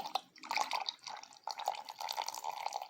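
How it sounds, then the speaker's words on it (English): Liquid is poured in a thin, trickling stream into melted butter while a homemade hibiscus mango leave-in conditioner is being mixed, close, soft dripping and splashing without speech. "we're going to add the liquid to the melted butter"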